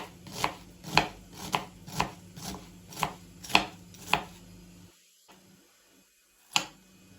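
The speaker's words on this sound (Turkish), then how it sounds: "Soğanları doğrayarak başlıyoruz." A knife chops onions steadily on a cutting board, about eight evenly spaced thuds, then a pause and one final cut.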